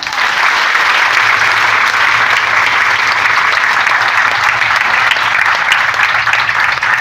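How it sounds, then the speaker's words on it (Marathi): An audience clapping loudly and steadily at a Guru Purnima gathering in a Swami Samarth devotional hall, a dense, continuous wash of applause from a large crowd. "जोरात टाळ्या वाजवा"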